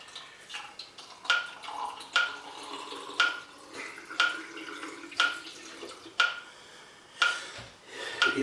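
Water poured into a film developing tank at 20 degrees, soft splashing punctuated by a series of regular sharp clicks or taps roughly every second, fairly quiet and close.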